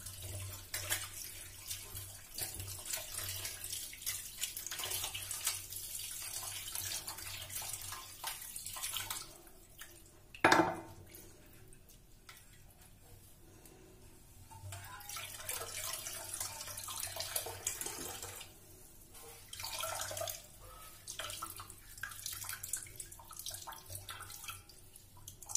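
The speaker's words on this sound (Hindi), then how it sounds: "नॉर्मल पानी से इसको वॉश कर लेंगे जिससे इसका जो विनेगर का स्मेल है वो निकल जाएगा।" Tap water runs steadily into a sink while freshly made homemade paneer is rinsed to remove the vinegar smell, a continuous splashing flow with one brief louder knock partway through, and no speech.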